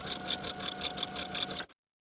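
A sewing machine stitches around a dress facing at 3/8 inch seam allowance, a steady rapid mechanical whir with rhythmic needle pulses, close and clear, before stopping abruptly.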